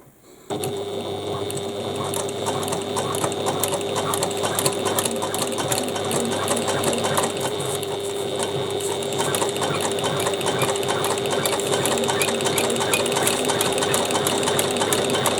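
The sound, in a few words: sewing machine sewing a bag from top to gusset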